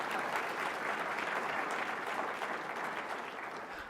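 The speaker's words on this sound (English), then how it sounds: "if we can give her a round of applause" An audience at a sustainability summit on music and science applauds in a dense, steady wash of clapping that holds loud throughout and eases slightly at the very end.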